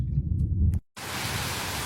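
Heavy rain pours down outside a creepy old place, a loud, steady hiss that cuts out completely for a moment before returning just as dense.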